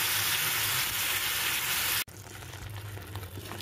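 Chickpeas frying in a pan with onion, ginger and garlic give a loud, continuous close sizzle, briefly cut off mid-way and then resuming with steady crackle, no voices.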